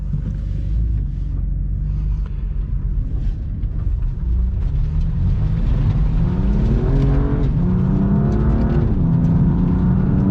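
A 2020 BMW M2 CS engine pulls hard under acceleration while driving, loud and close, with rising harmonic revs climbing through the gears over a steady road rumble.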